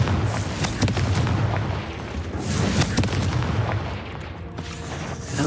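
Fiery blasts from the Confringo spell in Hogwarts Legacy, set in a cave, rumble through the whole stretch as a dense, loud roar with a few sharper bursts on top.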